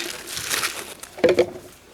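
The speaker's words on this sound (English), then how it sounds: "Now I can pull because my hand's inside the plastic bag, I can pull the rag out" An oily rag is pulled out of a plastic bag inside a canister, giving close crinkling and rustling of the plastic, with a louder crumpling burst midway before it fades.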